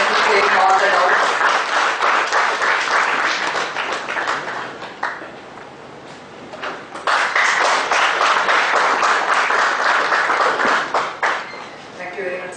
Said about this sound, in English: Please give a great round of applause.